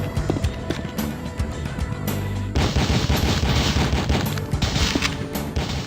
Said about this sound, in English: isn't Korben shooting cops? Yes, he is